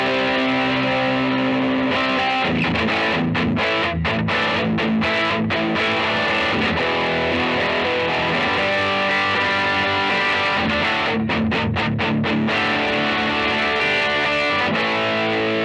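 Loud distorted hollow-body electric guitar, an Epiphone Casino, plays thick, driving riffs with choppy muted bursts between sustained chords, close and continuous.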